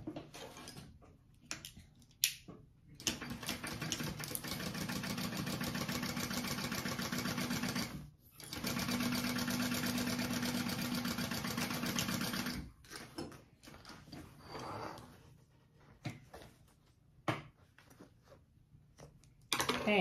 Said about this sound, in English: And we're gonna sew that together.